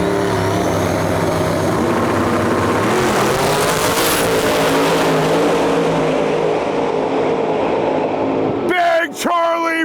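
Several race cars roar loudly down the track at a late-night 28-inch-tire street-style drag event, a dense sustained engine blast filling the clip before cutting off abruptly near the end into a brief hiss.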